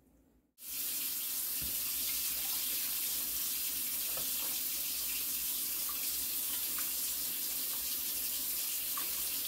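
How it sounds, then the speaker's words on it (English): Water runs in a steady, continuous stream into a Dutch oven nearby, a constant rushing splash from start to finish with no talking. "We're going to add some water as well."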